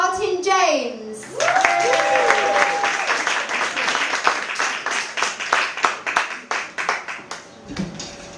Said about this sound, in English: clap for Martin James